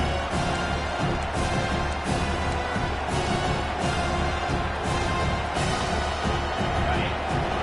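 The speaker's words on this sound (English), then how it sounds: "This crowd knows when to bring it." Dense, steady roar of a packed football stadium crowd cheering at a game against Utah, loud and continuous throughout with a constant wash of noise.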